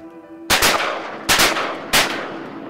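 Three shotgun blasts fired at a duck during a hunt, loud and sharp with ringing decay, the first two spaced wider than the last two.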